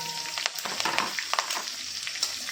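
Sesame seeds, curry leaves and green chilies sizzle in hot oil with popped mustard seeds, a steady close crackling hiss with scattered sharp pops throughout.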